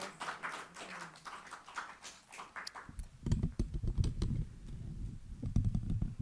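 An audience at a summer poetry reading applauds a new performer. The clapping breaks out sharply midway and stays dense and steady, following a stretch of quieter, murky room sound.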